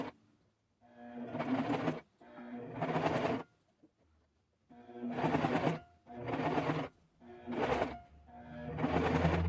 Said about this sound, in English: I'm going to put a stitch.